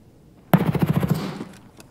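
Rapid burst of HK416 rifle fire in Escape From Tarkov, roughly a dozen close, loud shots in quick succession that then trail off.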